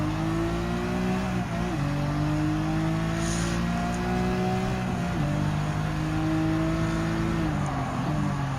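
An Alfa Romeo MiTo race car in Gran Turismo 7 during a European Clubman Cup race, its engine droning steadily and loudly with repeated pitch drops at gear changes and cornering, continuous and close.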